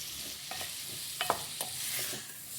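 Green chilies frying and sizzling in a pan while making aloo gajar, a steady hiss with a few sharp stirring scrapes and clinks near the middle, close and fairly soft, no talk.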